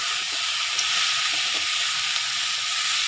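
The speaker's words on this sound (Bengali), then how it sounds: "একটু ভালো করে ভাজতে হবে এটাকে" Banana flower (mocha) frying with spices in a pan, giving a steady, close sizzle with a bright crackling hiss that runs unbroken throughout.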